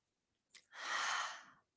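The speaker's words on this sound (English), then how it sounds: "I'm yawning a lot as we're talking about this" One person lets out a single drawn-out breathy yawn that lasts about a second, close to the microphone and alone in near silence, with a brief catch of breath just before it.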